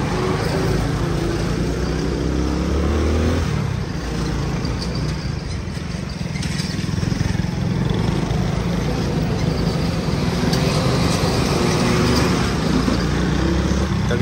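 A motorcycle carrying two riders climbs a long hill road, its engine droning loudly and continuously with a rough, steady buzz that shifts slightly in pitch as it labours upward, alongside wind noise.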